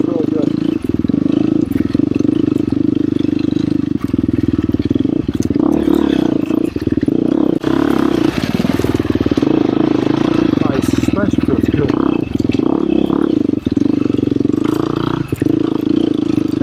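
A KTM 350 XCF Factory Edition dirt bike on singletrack, its engine droning and revving steadily throughout while a rider talks over the continuous motor noise.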